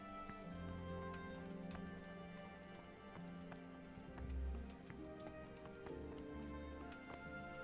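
Horse hooves clip-clop steadily in a medieval Bohemian setting of Kingdom Come: Deliverance, the regular footfalls joined by light patter like rain and layered over faint background game sounds.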